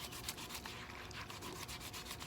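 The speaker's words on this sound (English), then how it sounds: "just scrub all of the loose stuff off" Loose rust being scrubbed off a cast iron pan, a steady rapid rasping scrub with rhythmic back-and-forth strokes, close and faint, with no voices.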